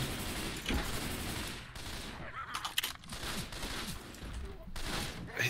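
An M4 rifle in the video game Left 4 Dead 2 fires in dense, rapid bursts, continuous and loud gunfire with brief gaps, while players talk faintly underneath.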